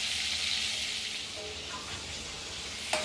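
Dried salted fish frying in a pan gives off a steady, close crackling sizzle with a continuous hiss, ending in one sharp click.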